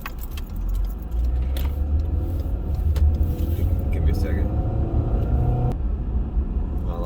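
A car passes on the road, a low steady engine rumble and tyre roar heard from inside a moving vehicle, with keys jangling nearby and a brief spoken remark over it.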